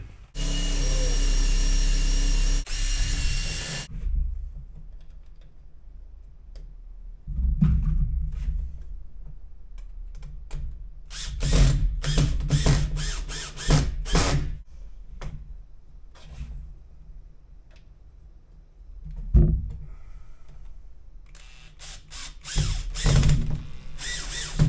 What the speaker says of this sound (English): Guess I'll drill some pilot holes first.